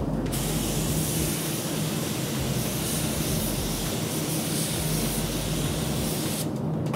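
A spray gun applies Glasurit paint to a motorcycle body panel, giving a loud, steady hiss that runs almost unbroken for several seconds before cutting off briefly near the end.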